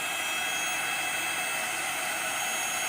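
An embossing heat gun runs steadily throughout, a loud, constant close-up blowing roar with no talk over it.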